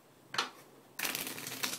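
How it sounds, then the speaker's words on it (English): A deck of playing cards being shuffled by hand: a short riffle burst, a pause, then a longer riffling flutter ending in a quick snap, close and clear with no talk. "And I'll also give it a quick shuffle."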